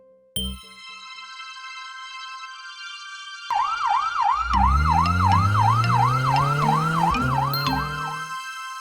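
Cartoon ambulance siren starting with a short chime, then a loud electronic wail rising in and cycling in a fast, regular up-and-down pattern over a low rumbling engine, near and continuous to the end.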